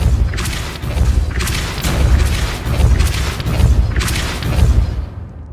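Repeated Depulso spell casts in Hogwarts Legacy: about four heavy booming thumps at roughly one-second intervals, loud and close, each with a short whooshing burst that fades.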